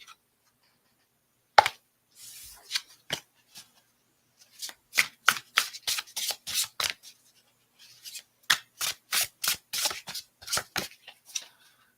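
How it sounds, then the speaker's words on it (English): Deck of cards shuffled by hand during a tarot-style card reading, bursts of rapid riffling and slapping, close and crisp, in two main runs separated by short pauses, no talking. "Let's pull some cards for it."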